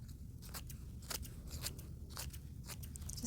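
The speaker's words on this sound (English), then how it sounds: "you'll take your scissors and you'll cut up the leaves into small pieces" Scissors snipping through dry fall leaves, cutting them into small pieces; a series of crisp, crunchy cuts at an irregular pace, close and moderately loud over a low background hum.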